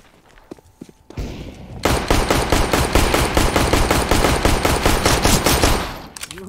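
Rapid Glock pistol fire in Counter-Strike: GO on Dust 2 rattles out as a fast, steady string of close, loud shots lasting several seconds after a brief burst of noise.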